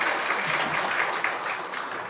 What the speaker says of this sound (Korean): 하나님께 다시 한번 영광의 박수 올려드립니다.